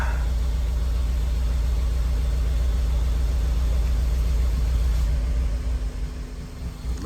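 A Honda Element engine idles roughly with a heavy misfire in cylinder one, a continuous low drone that dips and wavers near the end. No one speaks.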